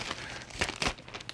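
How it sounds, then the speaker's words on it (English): A gallon plastic bag crinkles loudly and continuously, with a few sharper rustles, close up in a kitchen. "is the gallon plastic bag."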